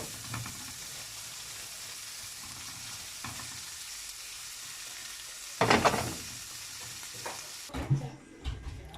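Paella ingredients frying in a pan: a steady, close sizzle that runs throughout, with a few louder bursts of stirring and utensil clatter near the end.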